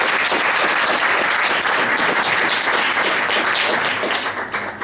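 An audience claps loudly and steadily for a speaker at a popular-science talk, a dense, continuous burst of applause that holds for several seconds and starts to thin out at the very end.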